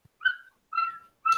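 At an open air market in the Philippines, a dog lets out three short whining yelps, each followed by a pause. The yelps are fairly close and no one is talking.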